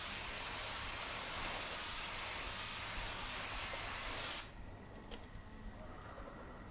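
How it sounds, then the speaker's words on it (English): Water is misted over a ceramic-coated car surface, a steady close hiss of spray that runs for about four seconds and then cuts off, leaving faint background noise and a few small ticks. "Just going to mist over the entire thing."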